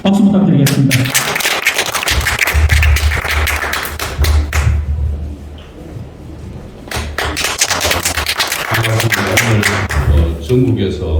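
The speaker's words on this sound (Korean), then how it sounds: "박수 부탁드리겠습니다" Audience applause at a Korean church-affiliated political meeting, a dense burst of clapping filling the room, easing off midway and then rising again, with a voice over a speaker system heard beneath it.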